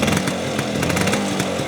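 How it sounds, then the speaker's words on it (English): A 1983 Vespa P125X scooter runs on choke right after a kick start, its small two-stroke engine buzzing loud and close at a steady, fast rattle, with no voices. "So no throttle, just kick it and it'll run off the choke."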